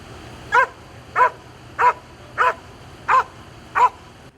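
Police dogs bark six times in an even, steady rhythm, each bark sharp and fairly close, with only a low hum between them and no talking.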